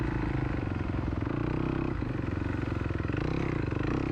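Dirt bikes racing through a muddy hare scramble, engines droning steadily and loudly with constant revving and some clatter, approaching an uphill climb.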